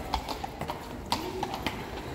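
Sharp hoof clops of a horse on a street in Kraków ring out at an irregular walking pace, moderately close, over a soft background hum.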